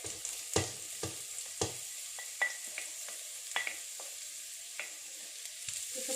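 Vegetables with carrots frying in a pan, a low steady sizzle broken by sharp clacks of a spoon stirring and scraping the pan, close and quiet, without speech.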